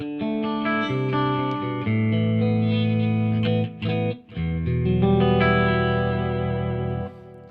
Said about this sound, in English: that'll give you more of sort of a crystally kind of scooped clean sound